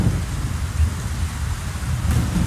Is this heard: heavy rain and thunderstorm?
yes